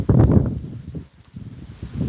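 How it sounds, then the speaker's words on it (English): Outdoor wind gusts buffet a microphone in uneven, rumbling bursts that fade and return, loud at first, dipping briefly, then swelling again near the end. "It's pretty windy right now."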